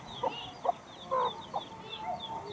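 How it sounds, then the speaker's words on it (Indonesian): Free-ranging chicken near a rocky bathing spot in Padarincang, Serang, Banten, clucking in short separate bursts while foraging, fairly close and moderately loud over faint outdoor background chirps. "sampai ada ayam tuh sambil nyari makan"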